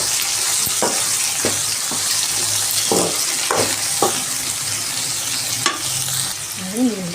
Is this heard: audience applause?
no